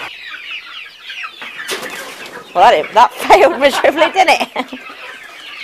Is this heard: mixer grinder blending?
no